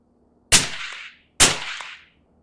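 Two suppressed rifle shots through a Sig Hexium silencer using 55 grain X-TAC ammunition from a 16-inch sealed bolt gun, each a sharp loud crack with a short decaying tail, spaced about a second apart.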